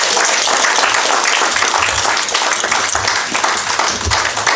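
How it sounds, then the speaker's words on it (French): Loud, sustained clapping from an audience greeting a candidate at an Ecolo party candidate presentation, with a thick, continuous texture and some low thumps mixed in. "Je vous demande d'applaudir Marina Mirkes"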